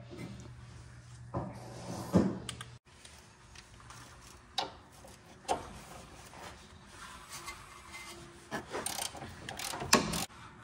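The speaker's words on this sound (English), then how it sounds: "we'll need to open a 9/16 bolt here and then another 9/16 bolt right here at the back" A wrench works a 9/16 bolt on the rear sway bar link of a 2012–2017 Toyota Camry, making quiet, scattered ratcheting clicks and metallic knocks with stretches of near-silence between them.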